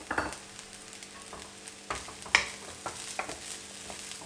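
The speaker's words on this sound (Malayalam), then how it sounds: "ജസ്റ്റ് ഹൈ ഫ്ലെയിമിൽ എല്ലാം ഇട്ടിട്ട് ഇളക്കുക മാത്രമേ ആവശ്യമുള്ളൂ" Egg fried rice with vegetables being stirred in a pan over a high flame: scraping spatula strokes and clatters recur irregularly over a soft steady sizzle, with one sharper metallic knock midway.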